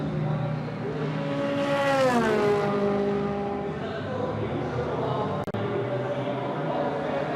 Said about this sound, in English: the cacophony of noise that we can hear is the cars beginning to leave the pit lane for their final run